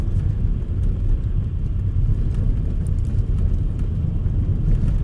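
A steady low engine rumble hums continuously as a Nissan Note e-POWER 4WD pulls away smoothly on ice, with no talking.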